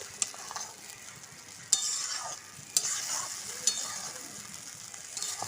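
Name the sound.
sautéing spice masala in a pan for doi potol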